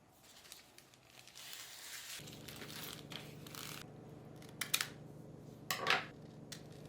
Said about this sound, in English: just me cutting the negatives with regular scissors and then sliding them into the sleeves